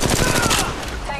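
Rapid automatic gunfire in Apex Legends Mobile, a dense burst of loud close shots in quick succession filling the moment before tapering off.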